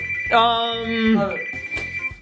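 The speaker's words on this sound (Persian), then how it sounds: "داره زنگ میخوره" A phone ringtone trills loudly in a short melodic burst, repeating after a brief pause, with voices talking nearby.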